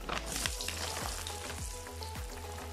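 Half-cooked packaged french fries sizzle and crackle steadily in shallow oil in a pan, a close, continuous frying hiss with bursts of popping and faint scraping stirs, no voices.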